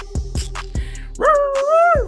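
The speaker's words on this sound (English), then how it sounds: "The Chihuahua barking behind the damn fence." A small Chihuahua behind a fence yips sharply a few times, then lets out a longer, strained whining bark, close and fairly loud.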